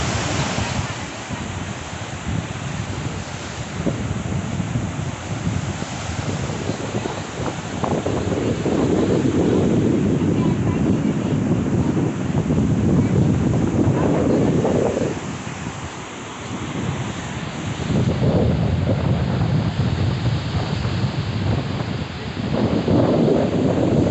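Ocean surf at Barra Velha beach on Marajó island, with waves breaking and washing in steady loud surges, mixed with heavy wind buffeting the microphone throughout.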